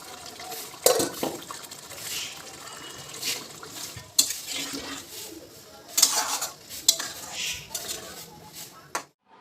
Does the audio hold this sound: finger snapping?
no